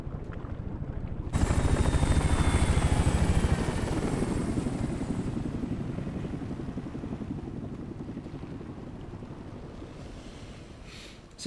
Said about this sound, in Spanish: Es el helicóptero que va hacia una base aérea,